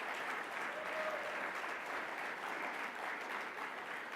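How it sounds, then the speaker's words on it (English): Steady applause from an awards-ceremony audience honoring national service supporters, a dense even wash of clapping heard at moderate distance with no break for the full few seconds. "I think that deserves a round of applause as well"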